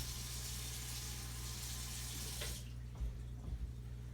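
Water is poured in a continuous stream into the corners of a baking dish for a few seconds, then stops, leaving a couple of soft knocks.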